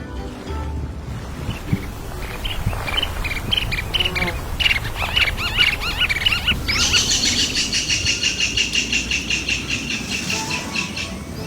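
Migratory winter birds calling in the Sundarban mangroves, a mix of chirps and whistles over a low rumbling background, building into a dense, rapid, repeated chattering call in the second half.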